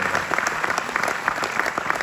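An audience at the Cinémathèque applauds Georges Mourier, giving dense, steady clapping from many hands that fills the whole short stretch at moderate loudness.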